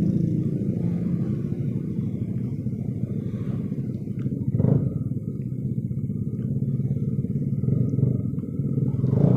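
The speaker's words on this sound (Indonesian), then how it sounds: "Nah, ini sore-sore orang jalan santai naik motor. Nah, termasuk anak-anak ini pakai knalpot brong" Motorcycles fitted with loud open knalpot brong exhausts ride along a Bali street in the late afternoon, giving a continuous rough engine rumble with a louder surge of revving midway, and no talk.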